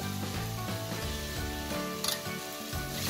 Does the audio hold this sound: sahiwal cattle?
no